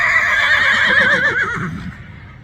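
A horse whinnies loudly and close by, a long wavering neigh that trails off and fades toward the end.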